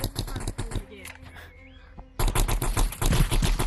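Rapid bursts of automatic gunfire in the video game Roblox Rivals, crackling densely in two stretches with a short lull between, loud and close, mixed with game sounds.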